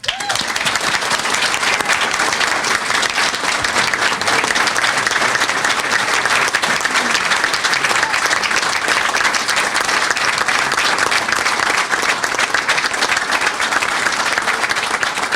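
Sustained audience applause fills an awards ceremony hall at a sports hall of fame event, dense steady clapping from a large crowd holding at an even loud level throughout.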